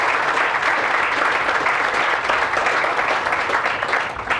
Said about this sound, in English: please give a round of applause to the Hamline Midway Coalition